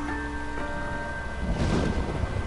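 A dark, rainy night in a PS4 crime-case video game: steady rain patters over a faint tonal hum. A low rumble of thunder swells in the second half, with no voices.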